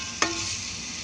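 Onion sautéing in a pan for a Filipino home-cooked dish, a steady broadband sizzle with a sharp clatter near the start as the onion goes in, no talking.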